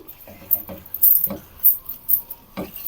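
A spoon stirs chicken curry in a cooking pot, making a series of close, irregular metallic scrapes and clinks spaced through the clip.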